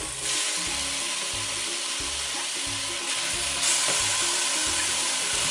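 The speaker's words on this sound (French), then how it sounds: "Dans une marmite, nous allons renverser la viande" Meat and tripe frying in a pot for a Nigerian okra soup: a loud, continuous sizzle with rhythmic low thumps of stirring, growing slightly louder near the end, no talk.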